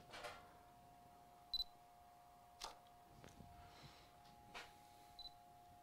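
A few faint, sharp mechanical clicks spaced seconds apart in a quiet room with a soft electronic hum and a brief beep.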